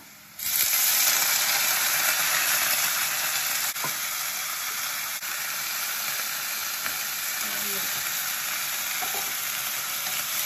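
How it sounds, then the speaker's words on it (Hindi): Onions and pre-boiled vegetables frying in a pan for oats khichdi give a steady, close, dense sizzle that holds evenly throughout, with no one speaking. "ये हमारा प्याज भुन गया।"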